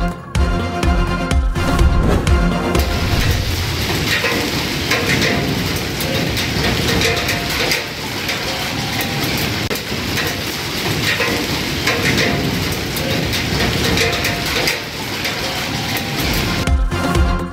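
Steady, heavy rain falls over Islamabad during a thunderstorm, a loud, continuous hiss of downpour lasting throughout.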